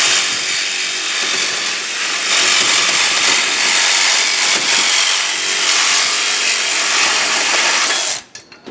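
A power saw blade grinds through a metal bike frame during a soapbox cart build, a loud harsh rasping cut that surges and eases for about eight seconds before cutting off.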